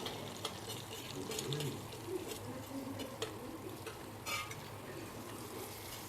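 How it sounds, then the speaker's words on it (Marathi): Chili powder, salt and turmeric sautéing in a pan, a soft continuous sizzle with occasional light scrapes and stirring clinks, faint and close. "तिखट, मीठ आणि हळद हे व्यवस्थित परतून घेत आहे."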